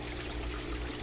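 Water streams steadily into an aquaponics grow bed with a clogged bell siphon, a close continuous gurgling trickle and no talking over it.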